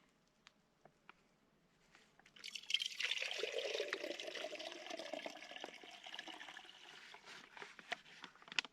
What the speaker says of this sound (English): I'm gonna get this water dumped into here.